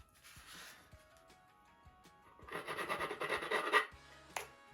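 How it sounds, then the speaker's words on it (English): Needle files rasping on a Top Flite .60 size P-40E Warhawk model airplane build, with a short soft scrape followed by a louder burst of rapid, rhythmic back-and-forth filing strokes, close and alone. "I got these permanent needle files, and they're great for filing"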